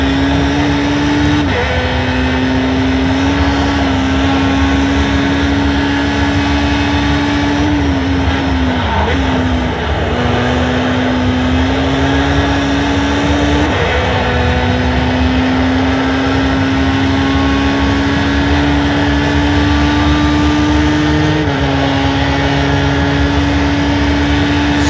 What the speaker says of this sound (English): Screaming that little 4-banger.